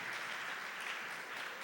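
Members of a church congregation applaud together in a steady, even wash of clapping, moderately quiet and unbroken throughout, without any voices.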